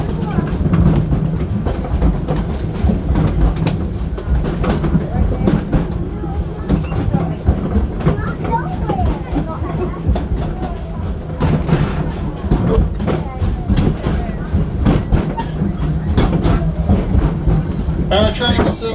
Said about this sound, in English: Our train will soon be arriving back at its station in Africa.